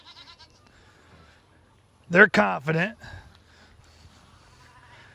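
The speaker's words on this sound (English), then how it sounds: "If you've never owned a billy goat" A billy goat bleats in a loud, close burst of two or three quavering calls lasting about a second, with someone talking quietly before and after it.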